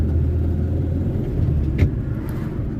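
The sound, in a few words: 1978 Honda Civic driving and gear shifting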